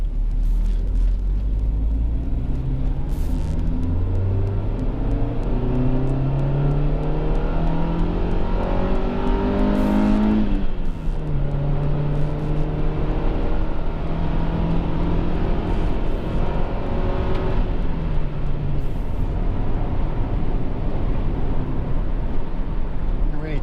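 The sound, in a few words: Honda CR-X 1.6 ESi engine accelerating while driving on a country lane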